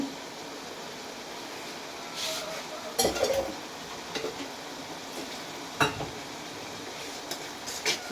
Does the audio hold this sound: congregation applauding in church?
no